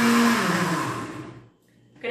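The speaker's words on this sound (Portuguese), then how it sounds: "Vamos bater no liquidificador até ficar bem homogêneo." A blender whirs loudly as it purees canned sweet corn with liquid and cornstarch into a cream, then winds down to near silence before a brief restart at the end.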